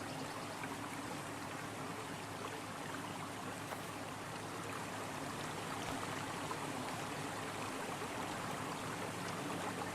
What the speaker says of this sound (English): You can hear this one bubbling.